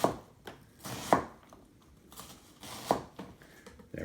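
A kitchen knife makes straight cuts through an onion on a cutting board, producing about five sharp, close knocks at an uneven, unhurried pace with soft slicing rustle between strikes and no voices.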